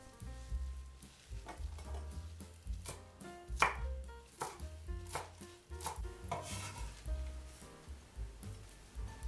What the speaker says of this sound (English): Coarsely chop 10 grams of mint and 10 grams of cilantro.